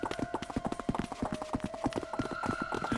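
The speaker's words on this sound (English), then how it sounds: "It's not as good as the clip clop when their horses are galloping, but it's still pretty good." Rhythmic horse hoof clip-clop from the video game 999: Nine Hours, Nine Persons, Nine Doors, a steady run of close, evenly spaced hollow knocks over a sustained musical tone, with no talk.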